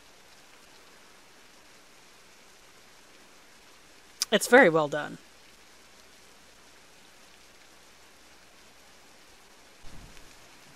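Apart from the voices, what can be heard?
rain in video game Beasts of Bermuda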